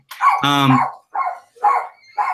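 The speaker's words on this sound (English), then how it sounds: "mute yourself if your dog's barking" A dog barks several times in short separate bursts, the first loud and drawn out, followed by three quicker, clipped barks close to the microphone.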